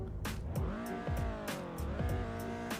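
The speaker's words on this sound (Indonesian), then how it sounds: "Ini untuk Luxio suara mesinnya kecil banget ya." A Luxio car engine in a driving video game gives a small, thin hum that rises and dips through gear changes, overlaid by sharp repeated clicking ticks.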